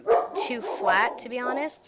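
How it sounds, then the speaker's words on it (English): A pet dog barks and yips indoors, several sharp barks overlapping someone talking nearby. "Sorry, that's my dog."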